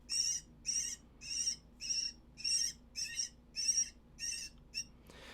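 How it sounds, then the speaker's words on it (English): A recorded predator call plays repeated harsh, high-pitched bird screams, about ten in steady rhythm, each short and raspy, close and loud against a quiet background. "This is a great bird sound, great for bobcats."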